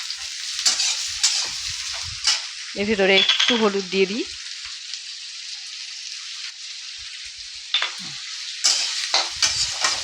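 Potatoes and sliced onions sizzle steadily in a hot pan for a ridge gourd dish, a continuous crackling fry with occasional stirring, while someone speaks briefly.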